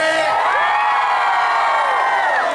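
An outdoor concert crowd at the Pizza Village in Naples lets out a loud, sustained cheer of many voices, whooping and shouting together in a dense roar.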